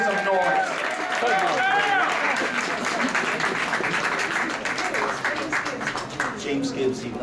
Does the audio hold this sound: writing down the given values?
no